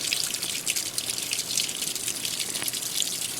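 An old-style washing machine fills with cold water, a steady rushing gush with small splashes and drips, close and fairly loud, constant throughout.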